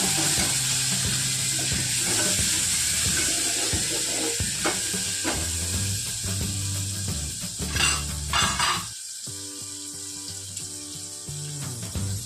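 Dal is stirred in a pan after half a spoon of garam masala goes in, giving steady sizzling and scraping with a brief clatter of utensils near the end, loud and close, with no talk.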